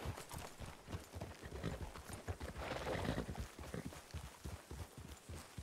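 Horse hooves in the video game RedM clip-clop in a steady, quick rhythm of soft, moderately close hoofbeats that go on for the whole stretch, with no talking over them.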